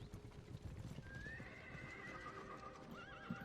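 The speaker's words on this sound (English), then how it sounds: "Damn, I love those horses." Horses whinny in long, wavering calls over a steady, busy bed of hoofbeats and battlefield ambience in the fantasy strategy game Age of the Ring, faint and distant in the mix.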